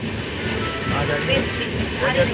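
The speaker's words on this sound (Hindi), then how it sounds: "हमारे बाजू में ही खड़ी है ग्वालियर बनारस एक्सप्रेस" A Gwalior–Banaras Express train stands alongside at a station platform, giving a steady broad rumble and hiss of rail noise with faint tonal whines, while someone talks over it.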